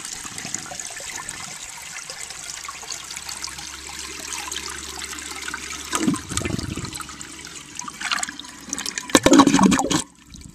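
An Eljer Waco toilet flushing outdoors: steady rushing water and trickling build to a louder swirling surge near the end, close and clear with no talking.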